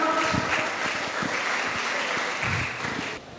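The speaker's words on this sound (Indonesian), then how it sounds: "Sekali lagi tepuk tangannya untuk Mbak Tia dong." Audience clapping at a church gathering, a dense burst of applause that fills the space and then stops abruptly near the end.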